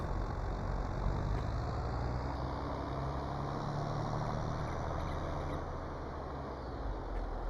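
A large tractor in Farming Simulator 22 idles with a steady, low engine drone that holds at an even level throughout, without voices.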